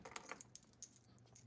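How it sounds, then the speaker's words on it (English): Car keys for a W124 jangle and clink in a few quick, light bursts close by. Quieter rattles follow with small gaps between them, and no one speaks. "Keys."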